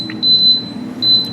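Two steady electronic beeps from an Instant Pot pressure cooker as it is set to pressure cook, each tone lasting under half a second with a short gap between, clear and close over a low room hum.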